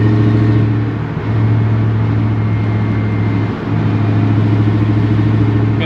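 A Dodge Ram truck engine revs hard through a raspy glass pack exhaust, a loud steady drone that dips briefly twice before surging back.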